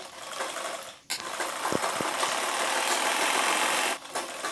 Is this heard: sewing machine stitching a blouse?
yes